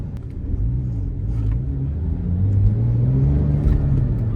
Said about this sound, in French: Premier tour de roue de la Porsche.